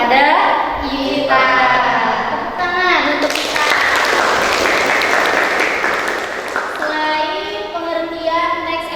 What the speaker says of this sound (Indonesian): Tepuk tangan untuk Ita.